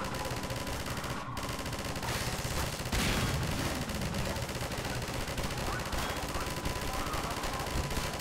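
Gunfire in the video game Half-Life 2, continuous rattling shots and bursts heard at moderate distance amid busy combat noise, with a player talking occasionally.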